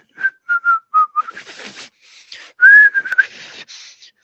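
A man whistling a short tune nearby: several brief notes, then a longer sliding note, mixed with breathy airy sounds between phrases.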